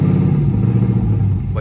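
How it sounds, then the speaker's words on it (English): A car engine idles, then revs gently as a little throttle is applied, giving a steady, close, low mechanical drone with slight rises in pitch. "Give it a little bit of gas."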